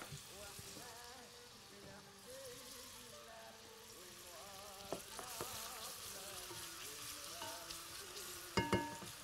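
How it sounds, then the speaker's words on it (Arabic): Onions fry with salt in hot oil, giving a steady close sizzle and crackle under quiet speech, with a few sharp clinks near the end. "وهنحمر فيهم البصله، نحمر فيهم الايه البصله، نحط لها شويه ملح"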